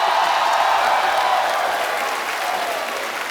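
Studio audience on The Kapil Sharma Show comedy program claps loudly and continuously, a thick roar of applause with a little crowd noise that eases off slightly toward the end.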